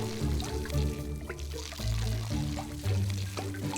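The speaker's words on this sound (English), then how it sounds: "Let's water them all to the full." Water pours and trickles from a watering can onto garden flowers in the Desperate Housewives video game, a bright close splashing flow over light background music, pausing briefly a couple of times.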